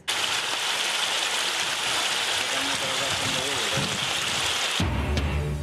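Dense, steady rushing of heavy rain and flood water in Cox's Bazar throughout, loud and continuous, cutting off abruptly near the end into a low hum.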